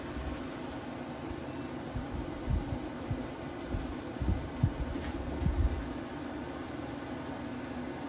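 A 5 kW diesel heater runs at full heat, giving off a steady low whirring hum with soft irregular knocks and a few faint high beeps at intervals.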